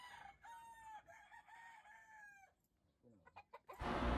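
A backyard gamefowl rooster crows one long, clear cock-a-doodle-doo close by, followed by a few softer clucks before a burst of rustling noise at the end.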